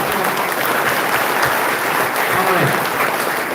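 An audience at a new academic session inauguration ceremony in Bangalore, India claps heavily and continuously, with faint voices mixed into the dense applause.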